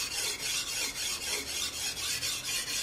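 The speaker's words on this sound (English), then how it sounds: "So we're just gonna get the bevel first." A knife edge is ground on a 600-grit sharpening belt to set the bevel, giving a steady rasping hiss broken by short regular pauses as each stroke passes, close and fairly loud.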